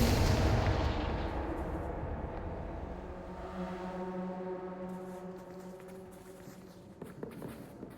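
A Confringo blasting spell goes off in the Hogwarts Legacy video game: a loud, boomy explosion that rolls away into a long fading rumble, with a few faint thuds and footstep-like sounds near the end.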